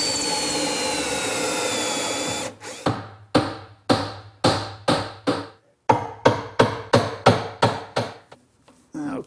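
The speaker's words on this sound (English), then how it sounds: "And I'll drill out that using my jig." A drill runs steadily at first as a dowel hole is bored in wood with a jig, then gives way to a series of sharp, rhythmic knocks in two quick groups.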